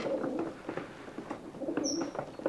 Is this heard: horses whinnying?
no